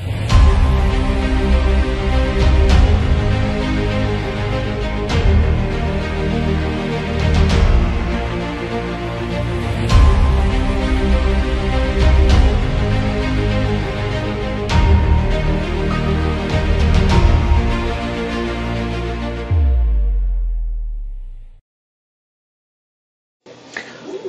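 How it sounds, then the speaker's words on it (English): Several 3D printers run steadily in a workshop, a loud, dense mechanical hum with faint periodic ticks that continues for about twenty seconds, then cuts off abruptly into silence near the end. "So, sorry for the background noise. I always have printers running"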